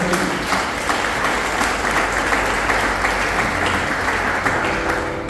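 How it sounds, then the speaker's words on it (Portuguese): A church congregation applauding during a sermon, loud, continuous clapping from many hands that fills the room without a break. "Pode aplaudir o Senhor."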